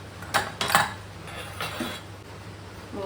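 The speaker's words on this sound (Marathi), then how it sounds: "ह्यात मी नाईफ हे इन्सर्ट करून बघते, फोक" A knife or fork pokes into cooked pumpkin and jaggery in a cooled pressure cooker, giving two or three sharp metallic clinks against the pot followed by softer scraping taps.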